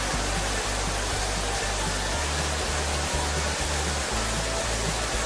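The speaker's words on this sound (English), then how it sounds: "This is a very high waterfall, quite spectacular, and you have water coming down there" The Thi Lo Su Waterfall, a very high waterfall in Thailand, sends water crashing down in a constant, dense roar of broadband rushing noise with no pauses, and a low rumble sits steadily underneath.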